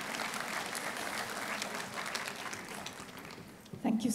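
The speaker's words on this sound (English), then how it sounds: "we must give these medical warriors a big round of applause" Audience applause at a global health diplomacy conference, a steady, moderately loud round of clapping from a seated crowd that fades slightly near the end as a voice starts speaking.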